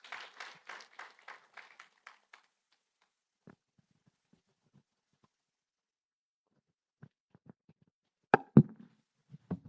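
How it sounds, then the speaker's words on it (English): A few scattered, sparse claps from a conference audience welcoming a speaker at a financial literacy training event, quick and thin at first, then silence, with a couple of louder knocks and claps near the end. "So a round of applause to welcome Elder Daniel Mulenga Katongo."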